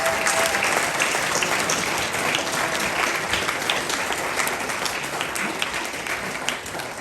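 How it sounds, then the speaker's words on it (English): Sustained applause from a crowd at a mayoral inaugural reception, dense and loud from the first moment, holding steady for several seconds with a slight fade toward the end. "Perhaps you could all join with me in giving them all the round of applause."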